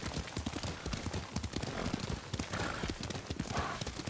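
Horse hooves gallop in Ghost of Tsushima, a rapid, loud, steady clip-clop rhythm close up, with an occasional whinny mixed in.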